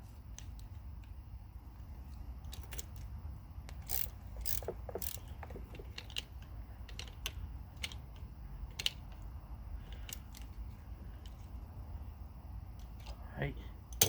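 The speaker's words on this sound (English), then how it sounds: "I'm going to use one nut as a jam nut, and then crank them off that way" Wrench ratcheting nuts off a stud using a jam nut on a Yamaha Gemini SST80 scooter, with sharp metallic clicks and clunks scattered irregularly over steady low background noise, close by.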